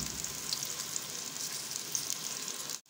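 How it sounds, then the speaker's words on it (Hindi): Finely chopped onion sizzles and fries steadily in a pan while being stirred with a wooden spoon, a continuous close hiss with faint scraping, cutting off abruptly at the end. "लकड़ी के चम्मच से चलाना है"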